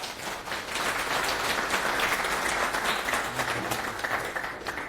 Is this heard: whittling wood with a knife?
no